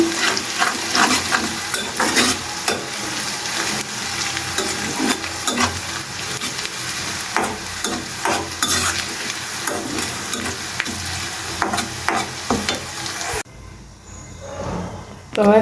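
Onion and garlic sizzle loudly in hot oil for a dal tempering, with a steady frying hiss and scattered spoon-stirring clinks throughout, then the sizzle drops away sharply near the end, leaving near-quiet.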